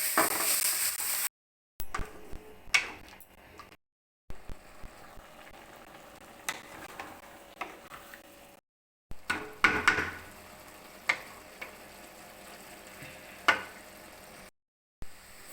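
Goat blood fry is stirred in a pan, with quiet sizzling and frying broken by scraping and clinking of a spatula against the pan, in short bursts separated by brief silences.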